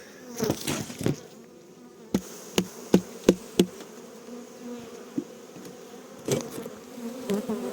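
Honey bees hum in a steady buzzing drone as they are shaken from a hive cover into the hive during a spring inspection, with a run of sharp knocks and thumps cutting through at close range.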